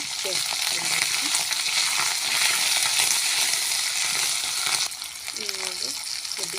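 Chicken sukka sizzles loudly in a pan with ginger-garlic paste and roasted tomato paste, a dense continuous frying hiss broken by occasional stirring scrapes, close up, easing slightly near the end.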